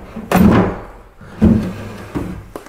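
Old wooden drawers in an abandoned 1934 house scrape and thud as they are pulled open and pushed shut, three loud bursts of friction and knocks at close range with no voices.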